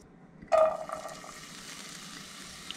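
Chopped onion drops into about three spoonfuls of hot oil in a pan for borscht, setting off a sudden loud sizzle that flares up and then settles into a quieter, steady frying hiss.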